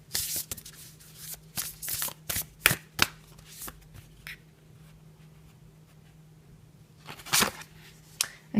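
Tarot cards are shuffled close up in quick riffling bursts and slaps, then go quiet, then shuffle again near the end.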